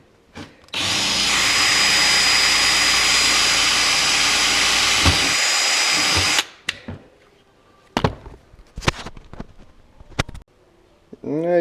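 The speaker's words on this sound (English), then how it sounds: "we're going to drill a hole in there" A power drill bores a hole in a broken plastic shifter part on a 2005–2011 Dodge Charger, Challenger, Magnum or Chrysler 300, running at a loud steady whine for several seconds, then stopping, followed by sharp clicks and handling taps.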